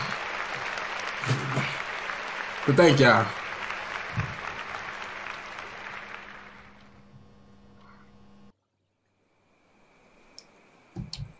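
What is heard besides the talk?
crowd clapping in the video game A Firm Handshake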